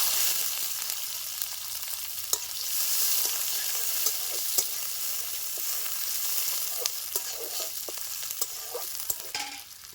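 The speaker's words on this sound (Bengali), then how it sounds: "পেঁয়াজটা বাজা বাজা হয়ে আসছে" Onion and bay leaf frying in mustard oil in a home kitchen pan, a steady close sizzle with scattered stirring clicks and scrapes running throughout, no talking.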